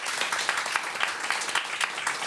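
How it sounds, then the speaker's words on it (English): An audience at a panel discussion gives dense, continuous applause, many hands clapping at once, close and lively. "I'd like to ask for applause for this last intervention"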